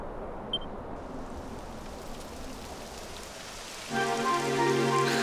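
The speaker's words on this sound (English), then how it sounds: "It would have to go and start raining, wouldn't it?" Steady rain begins to fall in the video game Dragon Quest XI, a soft continuous hiss that grows a little louder near the end as brighter tonal game sounds join in.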